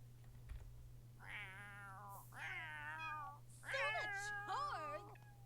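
Video game cats yowling and meowing in long drawn-out, wavering cries, several calls in a row over a low steady hum and faint keyboard clicks.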